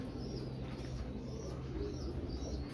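Pigeons in a breeding loft cooing softly and continuously, with a low steady rumble and faint chirps over constant background hiss.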